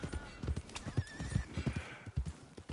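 Horse in the Red Dead Redemption 2 video game whinnying with a wavering neigh over steady clip-clop hoofbeats, close and moderately loud with light background noise.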